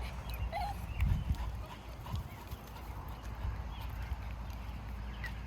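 A fast dog running back and forth along a fence at an East Coast RV stop, its quick paw steps and brief whimpers heard at moderate distance over outdoor background noise.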